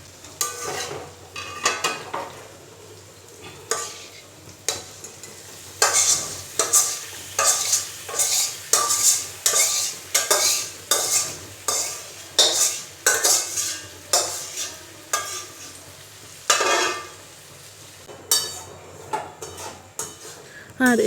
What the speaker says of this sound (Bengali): চিকেনের সঙ্গে চানাটা মিলিয়ে নিয়ে একটু নাড়াচাড়া করে রান্না হতে দেব